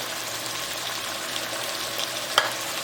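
Carrots stir-fried in a hot pan for a noodle bowl, with a steady close sizzle and a single sharp clink of a utensil near the end.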